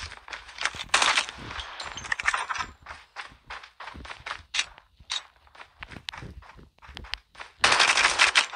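SKS rifle gunfire in a video game: bursts of sharp shots, some rapid and clustered, others spaced with pauses, plus footstep-like movement sounds between volleys, loud and close, with no talking.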